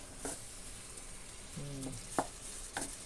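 Tomatoes sautéing in a pan give a quiet, steady sizzle, with a few soft clinks and scrapes of a utensil stirring over it.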